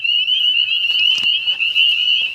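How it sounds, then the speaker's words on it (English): Leopard frogs call in a steady, high trilling drone, loud and near, with a few short clicks and croaks scattered over it. "And I hear a couple leopard frogs."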